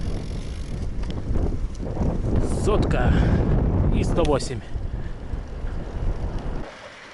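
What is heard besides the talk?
wind in open Mongolian Altai mountain terrain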